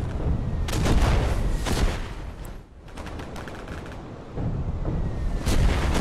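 Rapid gunfire in the WWII shooter game Day of Infamy, set in France 1944: dense bursts of shots and booming reports, loud and close, with a brief lull mid-way before firing resumes.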